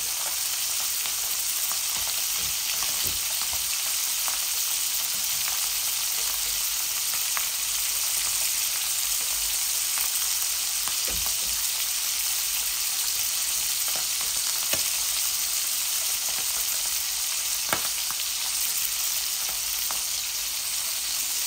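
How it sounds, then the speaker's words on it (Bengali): Fish heads fry in hot oil on full heat for an English fish head curry with potato and tomato, giving a continuous close sizzle with occasional pops and stirring clicks. "আমি ফুল আঁচে দিয়ে এটা ভাজা করেছিলাম, তাই হয়ে গেছে জলদি জলদি"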